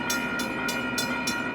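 Amtrak passenger train on the Chicago to Bloomington route, heard as a steady loud rumble with a sustained horn-like tone and regular clickety-clack bursts of the wheels on rail joints, with no talk.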